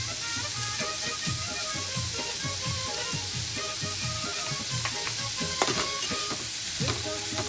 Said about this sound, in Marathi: कांदा चांगला परतून घेऊया. कांदा शिजण्यासाठी आपण थोडा मीठ घालूया.